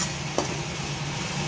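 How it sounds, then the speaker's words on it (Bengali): Food fries in a pan with salt and turmeric on a turned-up gas flame, giving a soft, steady sizzle with a single brief clink of a utensil early on. "এবার ভালো করে এটা ভাজবো।"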